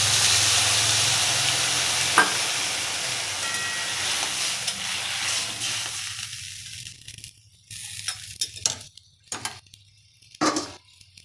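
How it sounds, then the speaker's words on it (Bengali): Water is poured into a pan of fried potatoes for a green banana and poppy seed dish, raising a loud, steady hiss and sizzle that cuts off after about six seconds, leaving softer crackles and a few sharp spits. "এরপর দিয়ে দিচ্ছি পরিমাণ মতো জল"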